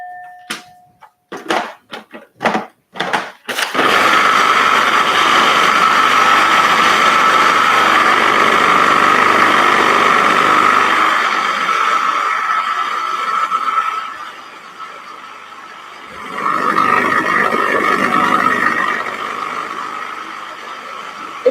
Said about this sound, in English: So let's continue blending.